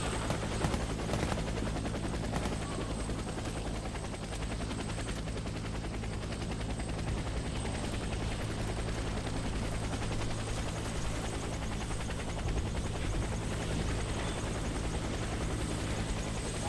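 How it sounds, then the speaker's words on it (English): A helicopter arrives for extraction amid gunfire in the video game Warface, a steady rotor drone running the whole time with bursts of automatic fire mixed in, fairly faint and continuous, with no talk. "Get to the helicopter for extraction."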